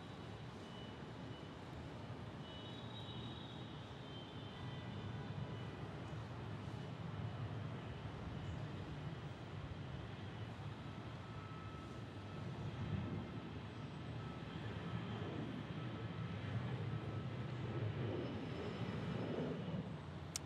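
An Avianca airliner in special livery departs Orlando airport bound for Colombia, a faint, steady distant jet roar building slightly over time, with no talking.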